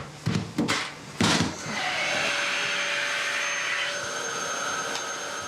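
A household vacuum cleaner starts after a few knocks and clunks, then runs as a loud, steady whining drone with a slight drop in pitch partway through, nobody talking over it.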